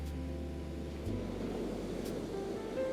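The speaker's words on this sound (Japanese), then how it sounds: "波の音が" Soft ocean waves wash in a steady, gentle hiss and low rumble, continuous and close, with no voices over them.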